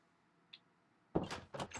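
Door opening in a Minecraft mansion, with a faint click followed by a few close, soft wooden scraping and thudding bursts, heard alone.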